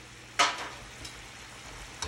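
Steaks for Steak Diane fry in a sauté pan, a steady close sizzle with a sharp burst of crackling early on and another near the end, no talking.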